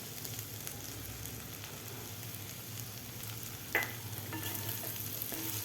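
Eggplant bhaji cooking in a pan gives off a steady, soft sizzle of frying. A spoon stirs it gently, and one sharp scrape lands near the middle.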